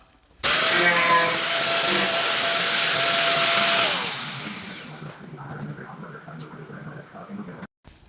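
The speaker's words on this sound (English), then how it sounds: "to grind down any of the rust in the dirt that's behind the back side of that fender" Grinding rust and dirt off the back of a steel fender on a 1968 Shelby Mustang GT500. A loud, steady, whining grind runs for about four seconds, then fades into quieter scraping and handling noise.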